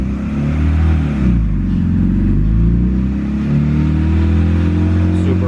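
A turbocharged Honda D16Z6 car fitted with a big HX35 turbo pulls away and drives, its loud, close engine note rising and falling through the revs with no voices over it.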